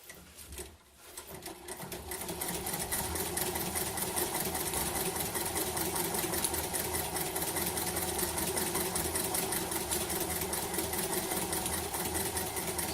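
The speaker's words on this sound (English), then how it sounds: "throw a little bit of cloth in here and see how it stitches" A Singer 103 industrial treadle sewing machine with an 18-inch flywheel stitches cloth. It starts with a few uneven turns, then settles into a fast, steady mechanical chatter heard close up, with no talking.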